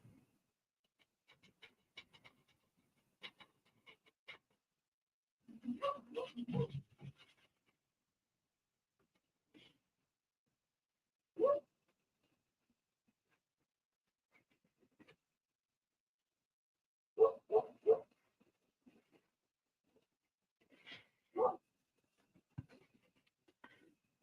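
A dog pants and shuffles around a quiet indoor living room, with soft scratchy movements and short bursts of breathing scattered between long silences.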